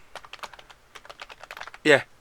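Quick typing on a computer keyboard, a brisk close run of light clicking keystrokes ending in one louder, heavier key press.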